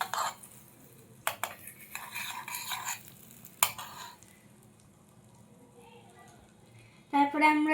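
Butter going into a hot kadai on a lit stove for cheese Maggi, with stirring and spoon-against-pan scrapes, a few sharp clinks and a brief sizzle near the end, close and fairly quiet.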